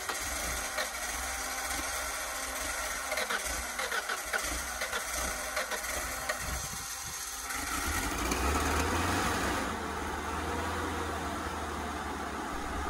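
Ford LRG-425 engine on a JLG 80HX boom lift runs steadily at idle, a continuous close mechanical drone that grows rougher and louder partway through, with no voices.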